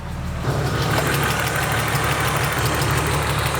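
A BMW M3 that sat abandoned for four years idles with a rough lifter tick, a close, steady engine hum carrying a fast, even ticking throughout.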